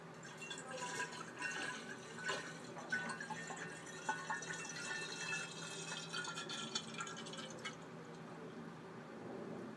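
Water pours steadily into a flask with a trickling, splashing fill, then stops near the end; close and fairly quiet, with no talk.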